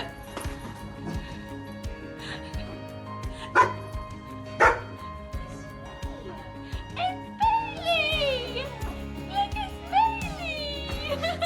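A dog barks excitedly on being reunited with its owner after a year apart, with a few sharp barks and yips rising over steady background music and excited voices.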